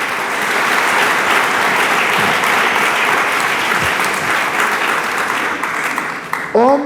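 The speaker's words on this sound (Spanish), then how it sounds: "Dele palmas al Dios del cielo." A church congregation claps together in sustained, dense applause for several seconds, fairly loud and close, tapering at the end, where a voice briefly rises over it.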